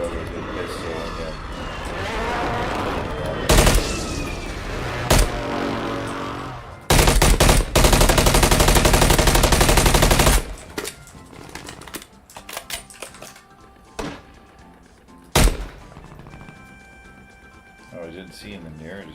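In a first-person shooter game, bursts of automatic gunfire rattle loudly in rapid strings, the longest lasting a few seconds, with scattered single shots and quieter stretches between while a player talks.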